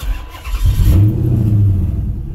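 A 2006 Chrysler 300 SRT8 engine revs up sharply, its low growl rising and holding steady, close and loud.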